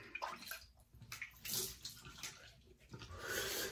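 Warm water running from a tap for shaving, a faint, steady splashing stream with small gurgling swells and no talk.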